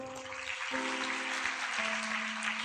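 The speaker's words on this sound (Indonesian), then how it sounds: "Ada tepuk tangan bagi Tuhan." A church congregation claps together during a sermon on marriage, a dense, even wash of applause filling the room for the whole span, with sustained organ or keyboard chords droning underneath.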